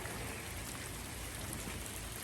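Steady rain falls at an outdoor wrecking yard, a dense, even patter that is soft and continuous, with no voices present.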